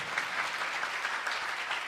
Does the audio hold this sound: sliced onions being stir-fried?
no